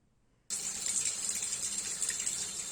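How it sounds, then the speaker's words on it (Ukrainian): Tap water gushes steadily from a faucet over the roots of a coffee plant to rinse away soil, a bright continuous splashing that starts abruptly and runs on alone without talk. "Беремо, вимиваємо земельку під потоком води"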